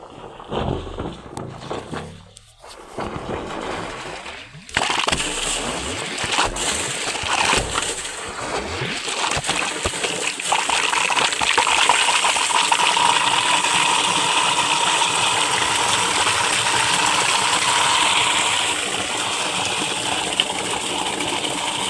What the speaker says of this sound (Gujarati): હા પાણી આવવાનું ચાલુ થયું